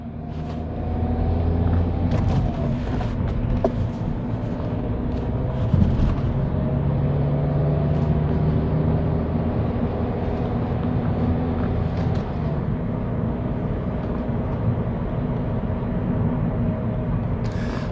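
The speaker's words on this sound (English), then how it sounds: "Let's see how much noise is in the car when we drive it." Cabin noise inside a small car, a Mitsubishi Colt or VW Fox, driving at 50 km/h: a steady low engine and road rumble with tyre roar, continuous and fairly loud throughout.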